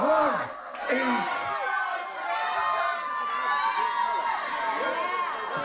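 Crowd at a chilli eating contest during the Bath Chilli Festival cheering and shouting steadily throughout, a dense wall of overlapping voices with bursts of whoops and yells.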